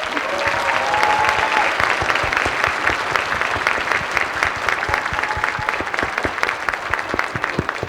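Audience at an elementary honor choir concert applauding the accompanist, a dense steady wash of many hands clapping that stays loud and even throughout, with faint voices mixed underneath.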